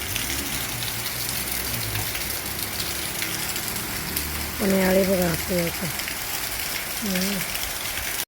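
Steady rain hisses down over a flooded farmyard where cattle stand out in the downpour, while people talk intermittently nearby.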